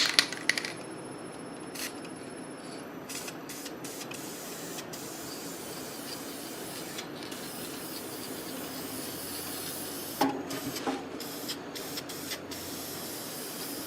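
Aerosol spray-on finish hissing steadily over turned wood pieces, a continuous close spray lasting many seconds with a few small clinks and taps at the start and near the end, no talk.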